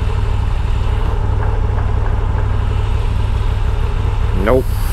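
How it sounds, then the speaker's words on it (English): A 2023 Moto Guzzi V7 motorcycle idles with a steady, loud, low rumble close by while the rider shifts into first gear, with a brief voice near the end. "Let me show you how easy the V7 is to get in first gear."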